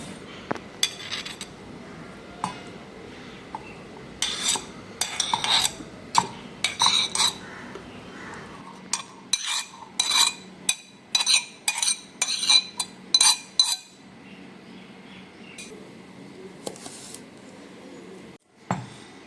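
Mutton for Kashmiri rogan josh being stirred over medium flame in a pan, with a spoon clinking and scraping against the metal in repeated bursts, a soft sizzle underneath and no talking.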